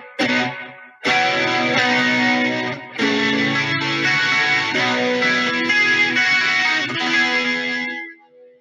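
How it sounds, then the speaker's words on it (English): Sustained electric guitar chords through a plate reverb on an H9 pedal wash out with a dark, lingering reverb tail, played in several long strummed phrases with brief gaps between them. "I've got a plate reverb on the H9 here, giving a really nice... dark kind of reverb."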